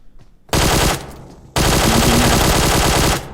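Automatic rifle fire in the mobile battle-royale game PUBG Mobile: two loud, rapid bursts, a short one followed after a brief pause by a longer sustained stream of shots, with no talking.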